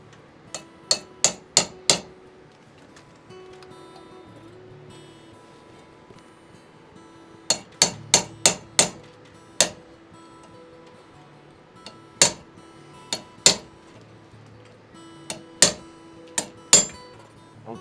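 Sharp metallic strikes of a hammer driving a chisel into wood, fitting cellar door hardware in an 18th-century Maryland manor; bursts of four or five quick blows separated by pauses, crisp and close.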